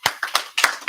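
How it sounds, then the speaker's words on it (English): A handful of distinct, close hand claps at a small community event, about five separate sharp claps in an uneven rhythm rather than a full crowd ovation. "So let's give her a round of applause."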